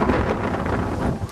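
Steady broadband wind rush buffeting the microphone, loud and continuous throughout with no voices.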